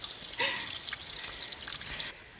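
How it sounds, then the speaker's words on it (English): A teeny tiny waterfall trickling outdoors, a quiet, close, steady babble of running water with faint drips and splashes over a couple of seconds, no voices. "Oh, look, a teeny tiny waterfall."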